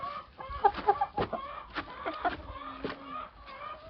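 Chickens and roosters cluck close by in a farmyard, making scattered short calls and chatters in an irregular rhythm.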